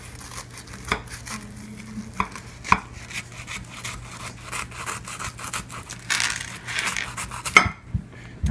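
A knife cuts a hot vegan Reuben sandwich in two on a board, with scattered close taps and scraping strokes that build toward the end, faint and alone.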